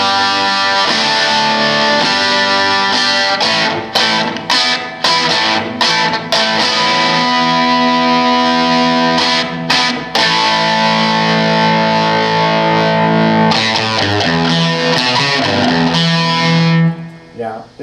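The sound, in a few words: electric guitar through distortion pedal, hard rock sound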